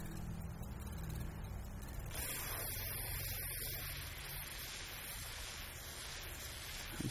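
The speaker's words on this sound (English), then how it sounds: "I'm just going to spray some WD-40 or whatever on the rag" A steady hissing spray of WD-40 onto a rag starts about two seconds in and continues without pause, fairly close, over a low background rumble.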